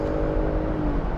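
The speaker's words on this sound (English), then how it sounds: "those downshifts sound so heavenly" Engine of a 2024 Ford Bronco Raptor downshifting, a steady close drone with a rising whine and rumble throughout, no pauses.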